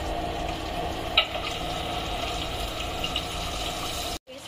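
Tomato and green chili paste sizzles and spatters loudly in hot oil while a pomfret fish curry cooks in mustard-oil style. A steady close frying hiss carries a stir click partway through and cuts off briefly at the end.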